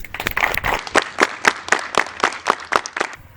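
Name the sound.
audience applause congratulating a couple on their anniversary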